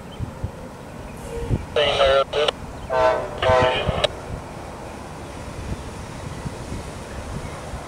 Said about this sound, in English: I'm here to watch Amtrak Palmetto number 90